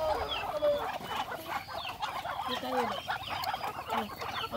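Several chickens cluck and chatter together nearby, a busy overlapping flock sound with steady background noise.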